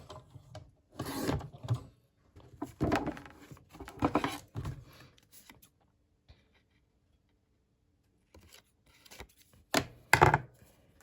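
Scissors snip through paper while a bear shape is cut out for a handmade baby card, several short crisp cutting bursts close by, a quiet pause, then a few more snips.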